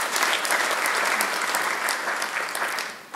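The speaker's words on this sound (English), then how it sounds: "Let's clap for CPA Alala." Conference attendees at an accountants' annual general meeting break into applause: a dense, lively patter of many hands, close and fairly loud, sustained evenly throughout before tapering slightly at the end.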